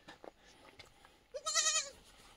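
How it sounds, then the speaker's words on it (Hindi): A baby goat kept inside a basket in a Himalayan village home gives one loud, quavering bleat after a moment of near silence, with a few faint rustles and clicks before it. "ये डोके में अंदर बकरी का बच्चा रखा होगा। ये देखो बोल रहा है जो"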